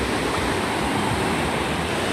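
Strong sea waves make a loud, continuous rushing roar that fills the whole moment, close and unbroken, with no voices.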